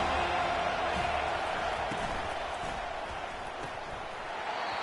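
A large football stadium crowd roars in a dense, continuous wash of noise throughout, loud and steady, with a commentator's voice faintly underneath.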